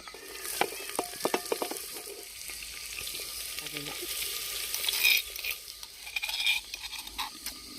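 Cashews frying in a pan for paneer pulao while being stirred, with sharp metal spoon scrapes and clinks over a continuous soft sizzle in an outdoor village kitchen.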